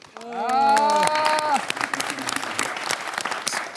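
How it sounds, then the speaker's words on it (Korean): Applause breaking out among K-pop trainees and staff after a final evaluation, a loud burst of clapping that follows a sung or shouted vocal note and continues under voices. "서로한테 수고했다고 각자에게 박수 한번 쳐주세요."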